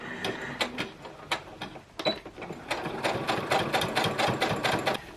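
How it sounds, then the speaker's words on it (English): A sewing machine straight-stitching fabric for face masks runs steadily with rapid mechanical clatter, speeding up into a dense, continuous run after a few brief starts. "The nice thing about this sewing machine though is that it cuts the thread for you"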